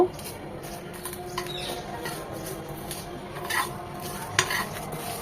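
Dried red chillies, five-spice, fennel and coriander seeds frying gently in oil over medium-low heat for a mango pickle, a soft close sizzle with light stirring and occasional clinks of a utensil against the pan.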